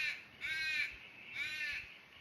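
Crow cawing outdoors, two drawn-out harsh caws about a second apart, moderately distant and fairly faint over quiet background.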